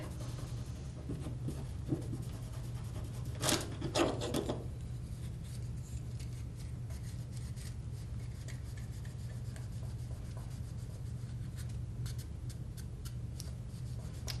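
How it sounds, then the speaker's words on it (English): A cloth rubbing wood stain onto a small wooden craft piece, giving soft, close scratchy strokes over a quiet background hum, with a brief louder burst of rubbing early on. "Now just kind of rub it in, take it off, put more on."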